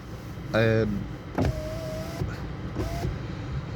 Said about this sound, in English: Just put my window up as well